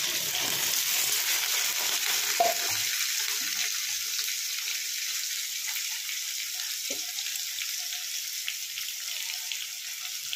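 Cut potatoes dropped into a hot pan of oil with panch phoron spices and chopped chillies, a steady loud sizzle and hiss of frying running throughout with a few soft clinks, no talking.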